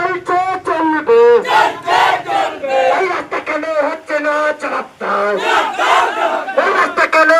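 A protest crowd chanting loudly at a road blockade in the rain, rhythmic shouted slogans from many voices in repeated bursts, close and forceful.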